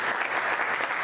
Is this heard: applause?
yes